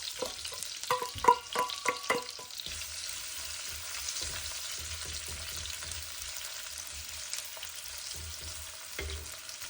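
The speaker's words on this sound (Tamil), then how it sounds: "இதோட ஒரு வெங்காயத்தையும் சேர்த்து வதக்குவோம்." Onion sautéing with a piece of cinnamon in hot oil for a cashew and beans curry, a steady close sizzle with a burst of stirring clatters at the start, then soft intermittent stirring.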